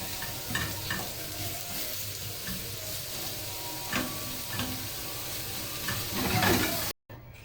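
Steady sizzling of eggplant frying in hot oil, with occasional stirring clinks and pops, continuous and close, then a brief cut near the end.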